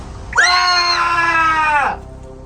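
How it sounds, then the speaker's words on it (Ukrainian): A single loud, sustained scream rings out near and steady for about a second and a half before cutting off, with no talking over it, set amid an eerie search at an open-air theatre. "А це чий був крик?"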